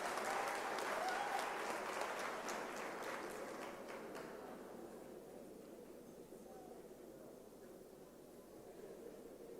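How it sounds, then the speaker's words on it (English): Faint, distant applause from the audience at an academic year closing ceremony, strongest at first and thinning out into a low hiss of room noise. "May we give him a round of applause?"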